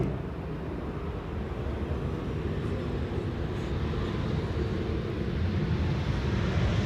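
A Boeing 777-300ER airliner arriving at Schiphol sounds as a steady, distant low rumble of jet engines that swells slightly and holds, mixed with wind noise, with no talk over it.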